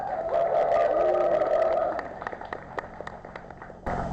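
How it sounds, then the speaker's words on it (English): Audience applause at a game-themed PowerPoint night, a burst of clapping and cheering that fades to scattered claps before a voice comes in. "Let's hear a round of applause for them."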